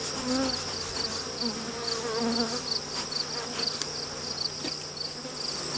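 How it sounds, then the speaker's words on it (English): A steady, dense buzzing of many honeybees on a hive frame fills the air close by, continuous and unbroken. "Here's another frame that has a good number of bees."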